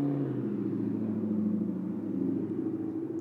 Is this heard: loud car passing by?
yes